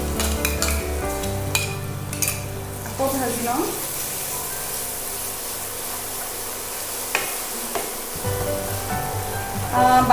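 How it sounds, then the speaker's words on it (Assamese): Eggplant frying in a pan after a paste of peanut, tomato and onion goes in, with steady sizzling and stirring scrapes that fade midway and return loudly near the end, no talk over it. "আকৌ ভাজি লওঁ"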